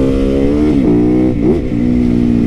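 A supermoto motorcycle engine revs close up, a loud steady mid-pitched drone with two quick throttle blips rising and falling in pitch midway, alone with no speech.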